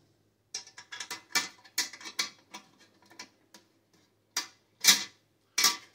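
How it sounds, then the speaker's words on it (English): A wrench ratchets while a Style Selections outdoor gas heater is put together, giving close, sharp clicking bursts in uneven runs with short pauses between turns. "take the wrench again."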